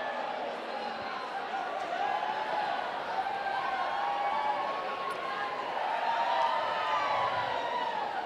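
Roller derby all-star game crowd at RollerCon, fired up by a man in a sombrero, producing a steady, dense roar of cheering and shouting throughout, with voices blended into the continuous noise.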